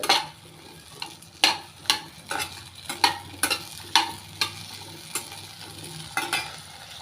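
Small Indian gooseberries (amla) stir-fried in a pan for a peanut chutney, with a steady quiet sizzle under repeated sharp scrapes and taps of the stirring spoon against the pan, close and clear.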